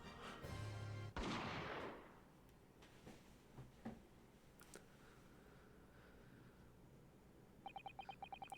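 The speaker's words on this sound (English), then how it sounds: "Jigoku shot Asogi from the shadows." A single gunshot from a Great Ace Attorney 2 story scene bursts out loud and close, then trails into a quieter stretch with scattered soft ticks and a faint repeating chime near the end.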